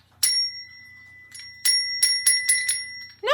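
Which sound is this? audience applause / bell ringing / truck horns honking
bell ringing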